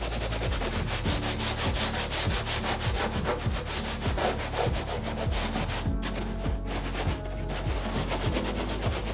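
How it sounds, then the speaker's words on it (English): Stencil-painted fabric being sanded by hand, a steady rhythmic rubbing that scrapes back and forth with repeated strokes, close and continuous throughout with no talk. "If you didn't want to do this sanding step"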